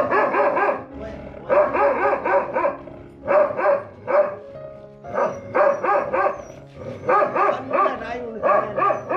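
Rajapalayam dogs and puppies bark in rapid, loud bursts, several yapping volleys separated by short pauses, with a low hum running underneath.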